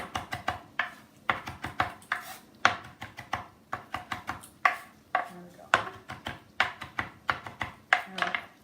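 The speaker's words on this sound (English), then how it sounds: "you're just gonna do like a little chop through it" Quick, rhythmic knife strokes chop fresh flat-leaf parsley on a cutting board, sharp close taps in uneven bursts for a shrimp scampi, with no talking over them.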